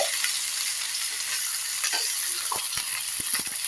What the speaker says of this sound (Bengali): আলুগুলো দিয়ে আমি এখন একটু 2-3 মিনিট নাড়াচাড়া করব।